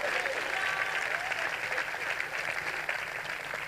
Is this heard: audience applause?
yes